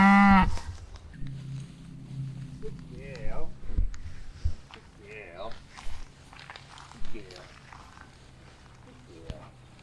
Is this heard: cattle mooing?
yes